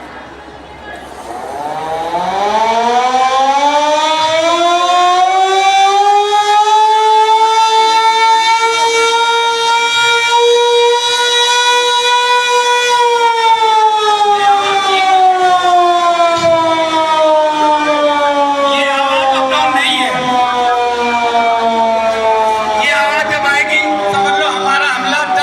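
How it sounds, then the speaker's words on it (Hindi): Civil defense siren sounding during a mock safety drill: one long, loud wail rises over several seconds, holds steady, then slowly falls, heard alone and close with no talking. "वो सायरन बजेगा।"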